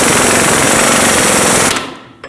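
A power impact tool hammers down the lower shock bolt on a 2006-2015 Lexus IS250 rear strut, a loud continuous rattling burst of about 1.7 seconds that cuts off, followed by a brief faint knock.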